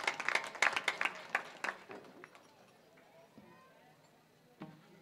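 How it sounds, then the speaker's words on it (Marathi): Applause from a kirtan audience standing outdoors in the cold, a burst of dense clapping that fades after a couple of seconds into quieter crowd murmur. "त्यांच्याकरता एकदा जोरदार टाळ्या वाजवा"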